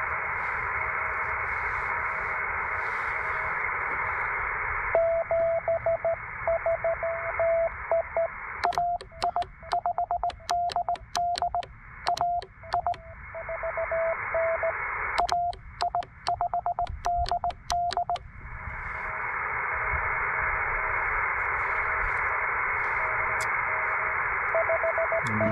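Steady shortwave radio hiss and static from QRM interference out of Texas, heard on a TR-45L radio in the field, with a faint whining tone, broken by bursts of crackling interference and stuttering pulses.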